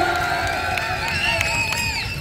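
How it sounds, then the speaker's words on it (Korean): A festival closing-ceremony crowd cheers and whoops continuously, with shouts and a dense wall of voices, loud and close, alongside a little clapping. "여러분들 박수하고 함성을 보내줘야죠"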